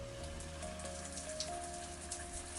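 Faint, steady patter of running water from a shower, a soft continuous hiss with scattered droplet ticks over a low hum, heard alone.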